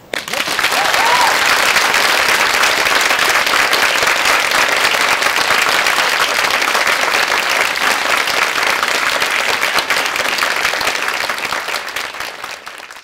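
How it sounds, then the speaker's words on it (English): A large book festival audience in a tent breaks into sustained, loud applause, dense and even throughout, tapering off only near the end. "large round of applause"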